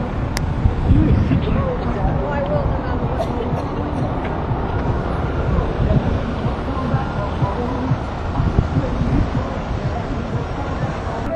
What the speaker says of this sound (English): It's just really, really windy, but not too cold.